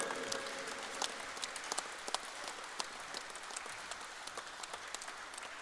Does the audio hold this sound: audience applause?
yes